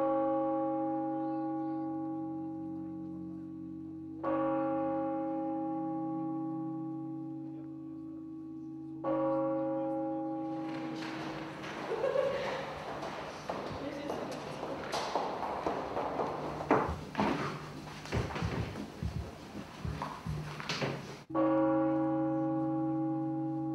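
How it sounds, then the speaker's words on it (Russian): Large church bells ring from a belfry in Staritsa, Russia, in long resonant strokes repeated every few seconds, their hum lingering between hits; a burst of broadband noise with footsteps or hooves interrupts midway before the bells sound again. "Сегодня к этому аккорду российских колоколов присоединилась еще одна звонница."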